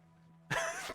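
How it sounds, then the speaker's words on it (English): A single harsh cough bursts out halfway through after near silence, close and loud, followed by a short breathy catch. "I was coughing"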